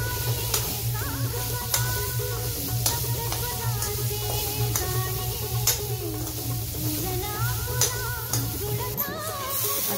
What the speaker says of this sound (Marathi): आता आपण ते जरा परतून घेऊया आणि झाकण ठेवून त्याला